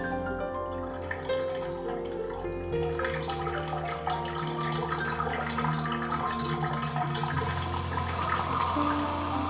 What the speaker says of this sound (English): Just a couple bathtubs to drain, now that we know we don't need the water